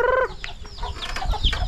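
Chickens and chicks cluck and chirp at close range, a short burst of high peeping and clucks over a low rustling background.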